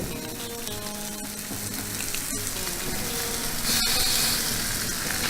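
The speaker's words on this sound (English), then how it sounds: "I'm going to put it on the grill next to this steak" An oiled lemon half sizzles on a hot grill beside a steak, producing a continuous loud, crackling hiss with scattered small pops, close and steady throughout.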